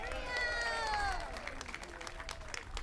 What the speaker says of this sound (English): Round of applause for Muriel.